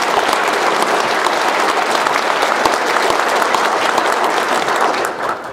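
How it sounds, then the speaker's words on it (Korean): Sustained, dense applause from a seminar audience after a keynote speech, loud and steady throughout before tapering slightly at the end, with no voices over it. "우리 심 의원님께 뜨거운 박수를 부탁드립니다"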